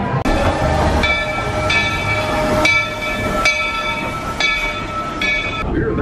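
Magic Kingdom park railroad train ride, a steady loud rumble of rolling wagons with repeated sharp high clacks and squeals at a regular beat throughout.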